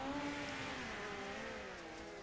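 Race cars roar together off a green flag restart on an oval at night, engines droning steadily and loudly with rising revs throughout, no voices.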